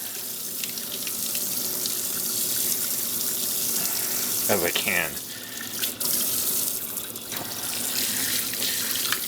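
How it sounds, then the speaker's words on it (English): Cold tap water runs steadily into a kitchen sink, rinsing cauliflower for a pizza crust, a continuous close splash with brief handling clatter midway and a few quiet spoken words. "bring my cold water over it and kind of rinse it"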